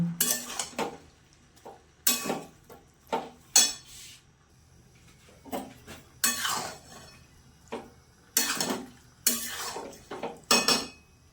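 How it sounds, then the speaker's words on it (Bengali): Broccoli and soybean chunks are stirred with tomato sauce in a pan, producing repeated loud bursts of utensil scraping and clanking against metal, with short quiet gaps between strokes. "একটু টমেটো সস দিয়ে ভালো করে নেড়ে চেড়ে নেব।"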